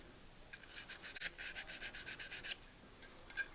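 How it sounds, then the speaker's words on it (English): Light sandpaper worked back and forth over the lips of a firearm magazine, a quiet rhythmic rasping of short strokes close up, faint overall, with no talking. "I can take a little bit of light sandpaper and I can work the lips"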